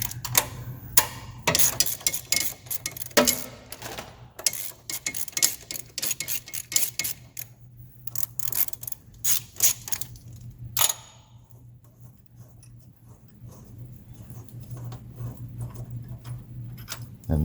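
Bolts come off the turbo oil fill tube of a John Deere 4440 tractor, giving sharp close metallic ticks and clicks from a ratchet in irregular bursts, with a low hum underneath and quieter stretches between.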